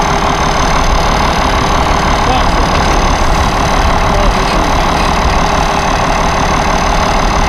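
A Case 930 tractor engine running loud and close, a steady, dense mechanical drone with a rough knocking texture that holds without a break.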